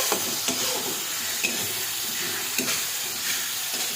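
Green chillies and chopped tomatoes frying in oil in a pan, a soft continuous sizzle and hiss with a few light stirring clinks, close and fairly quiet.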